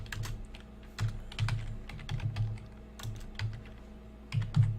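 Clicky computer keyboard typing in short irregular bursts, close and fairly quiet, with a low steady hum underneath and no talking.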